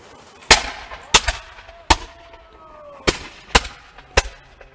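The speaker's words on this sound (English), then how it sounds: "Now, what they're firing is powder muskets." Black powder muskets fire at a reenactment of a French raid on a British fort, six sharp cracks spaced unevenly about a second apart, each loud and booming with short echoing tails against a quiet background.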